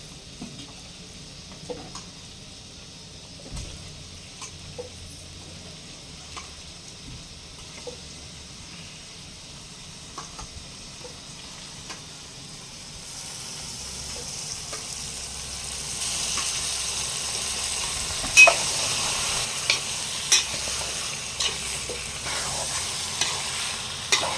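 Country chicken curry fries in a pan under a soft sizzle that grows louder partway through. Scattered scrapes and taps from stirring come at irregular intervals.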